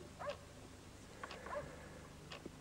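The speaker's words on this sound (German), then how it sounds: "Ein Hund höre ich irgendwo." A dog barks a few times far off outdoors, faint yips spread irregularly over a low background hum.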